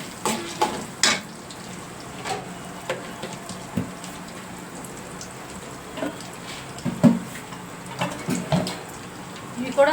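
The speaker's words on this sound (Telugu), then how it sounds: "ఇవి కూడా మినపగుళ్ళు కూడా ఒక 2 స్పూన్ల వరకు ఈ పచ్చిశనగపప్పుతో పాటే వేయించేసుకోవాలి" Chana dal and urad dal roasting together in a pan on a low flame for a bitter gourd garlic spice powder, a soft scattered crackle and scrape of stirring under a person talking.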